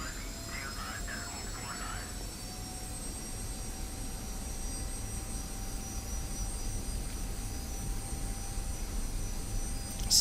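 An F-86 jet in DCS World hums with a steady engine drone and high whine as it slowly lines up on the runway, the tone constant and unbroken throughout.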